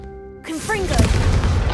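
A Confringo blasting spell from the game Hogwarts Legacy bursts in after a short quiet, a sudden loud blast followed by a crackling, fiery roar that sustains under swirling magical tones.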